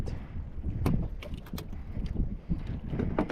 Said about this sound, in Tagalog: Grabe ng hangin. Lakas.